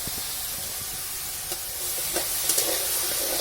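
Drumstick vegetables, potatoes and green chillies fry in a pan with a constant bubbling sizzle, a few spatters and scrapes rising near the end, close and fairly loud.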